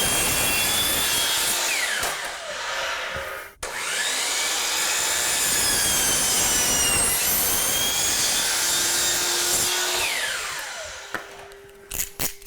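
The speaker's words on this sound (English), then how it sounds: "if you can get your hands on a saw like this, it's much faster work." A power saw cuts hardwood flooring for a bathroom floor laid over heated tile, its motor whining loud and close for about eleven seconds with shifting pitch before it winds down.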